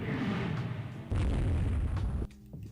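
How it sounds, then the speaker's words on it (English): A torpedo slams into the old battleship Radetzky in a naval war strategy game: a loud, deep boom swells abruptly, holds for about a second and then cuts off, over a steady rumbling battle backdrop. "Radetzky hit by a torpedo."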